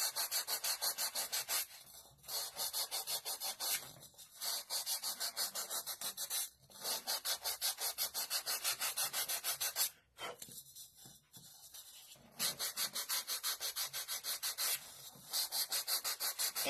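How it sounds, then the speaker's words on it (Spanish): Sandpaper rubbed over a 45 cm Hulk sculpture to smooth away cutter marks, heard up close as rapid, steady back-and-forth scratchy strokes in long bursts separated by short pauses, with no talking. "Vamos a pasar la lija para quitar las imperfecciones que dejó nuestro cúter."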